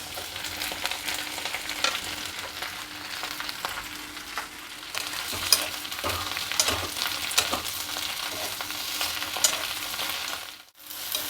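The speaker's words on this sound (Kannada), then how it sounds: "ಈಗ ಹಚ್ಚಿಟ್ಕೊಂಡಿರೋ ಬೆಂಡೆಕಾಯಿನ ಇದರಲ್ಲಿ ಸೇರಿಸ್ತಾ ಇದ್ದೀನಿ" Chopped okra fries in a little oil in a pan, giving a steady close sizzle with light scraping and stirring ticks, fading briefly near the end.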